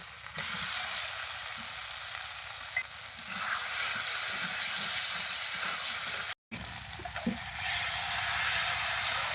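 Spice paste frying in oil in a pan for a Bengali fish curry, a steady close sizzle and hiss running throughout with faint stirring scrapes and one brief break in the sound.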